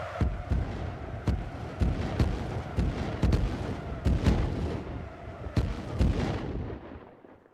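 In the Rust survival game, a volley of explosives hits a base as a rapid series of heavy booms and thuds, some overlapping, loud and close, then fading out at the end.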